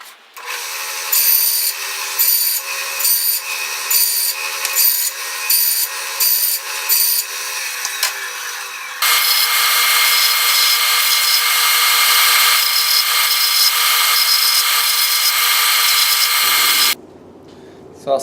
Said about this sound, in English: I have some 1/2 inch popular wooden dowels that I cut 3 inches long. I have a little fence set up here on my bandsaw.